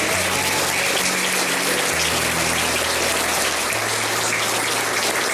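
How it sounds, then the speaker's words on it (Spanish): A church congregation applauding during a Sunday service, dense and loud clapping filling the space continuously, with low sustained organ or keyboard tones beneath. "Un aplauso al Señor, mis hermanos."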